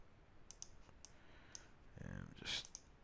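Sharp computer mouse clicks during a ZBrush 4R7 hard-surface modelling session, several quiet single clicks spaced apart, with a short burst of broadband noise near the end.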